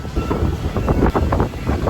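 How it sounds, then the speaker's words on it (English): Strong wind at Kemah Boardwalk in Texas buffets the microphone in a steady, loud roar with gusty rumbles. There is no speech. "It's so windy."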